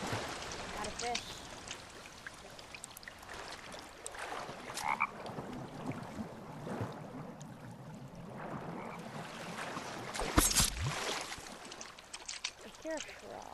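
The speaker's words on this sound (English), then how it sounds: "I hear a frog." Frog croaking outdoors in a forest setting near water, with a stream trickling, heard as scattered low calls amid rustling and handling noise; a person speaks nearby.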